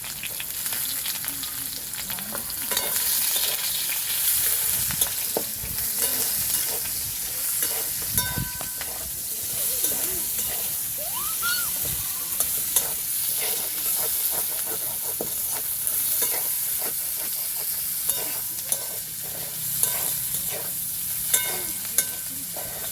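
Chopped onion, bay leaves and whole spices such as cloves, cardamom and cinnamon sizzle steadily in hot oil for a soyabean and potato curry, with a constant broadband fry hiss broken by frequent spatters and scraping stir strokes; no one speaks.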